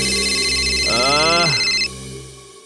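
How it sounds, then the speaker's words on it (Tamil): A phone rings at night in a Tamil CID crime drama, heard as a close, bright electronic tone with a warbling sweep in the middle. It cuts off sharply near the end, leaving a low hum. "இந்த ராத்திரி நேரத்துல யாருக்கிட்ட இருந்து போனு?"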